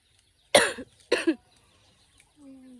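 Two close, sharp coughs from one person, about half a second apart, in a quiet setting, followed by a faint tonal hum.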